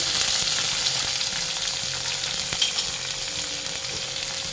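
Chopped onions and chillies fry in hot tempered spices for poha, making a continuous, moderately loud sizzle and crackle with faint stirring and no voices.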